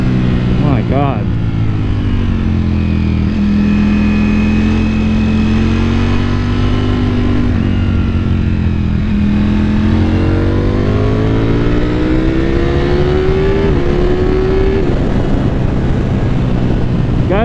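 A Ducati Panigale V4 S revs hard while riding, its engine note climbing steadily through the gears with a strong continuous roar and rising pitch, loud and close, with a rider's voice over it.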